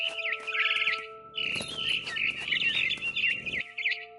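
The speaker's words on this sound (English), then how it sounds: "Then I heard chirping outside my window." A bird chirps and tweets in quick repeated bursts outside a bedroom window in the video game What Remains of Edith Finch, clear and close over a low hum, with a brief rustling texture in the middle.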